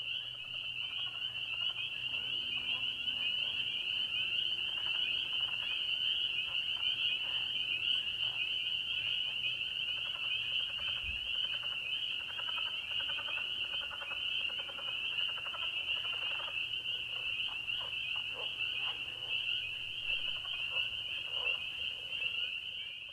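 Frogs croak in a steady chorus at the lower edge of Table Rock Lake, with a continuous high trilling drone and denser croaks underneath, filling the whole stretch with no voices.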